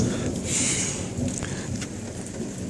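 Steady rain falling around a parked car in a residential street, a constant wash of hiss with a few brief louder splashes, moderately quiet and with no talk.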